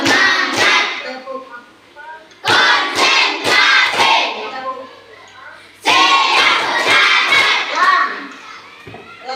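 A classroom of children clap in rhythmic bursts, three loud rounds of quick patterned claps separated by brief pauses, with their voices chanting and calling out along with the clapping.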